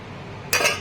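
Rice is being served, and a utensil gives a single short clink against a dish near the end of a quiet moment.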